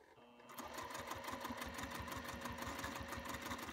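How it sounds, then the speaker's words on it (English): Domestic sewing machine stitching a connector onto a cork bag, starting after a short pause into a fast, even mechanical chatter of rapid needle strokes, close up and steady. "I'm sewing the first connector onto my bag."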